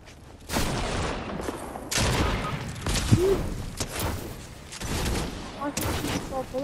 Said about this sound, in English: I can shoot 4 bullets at once.